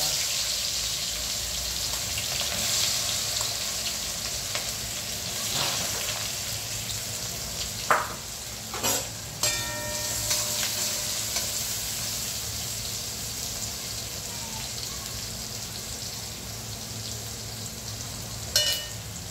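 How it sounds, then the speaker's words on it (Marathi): Onion sautés with bay leaf, cumin and garam masala in a pan for chicken biryani, a continuous sizzle broken by a few clinks and stirring knocks. "आपल्याकडे कांदा आपला छानपैकी कांदा परतत आहे"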